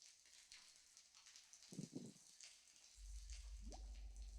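Water drips faintly in a quiet, cavernous fantasy tabletop-game ambience. The drops are scattered and isolated, a couple of closer squishy plinks stand out, and a low steady rumble fades in partway through.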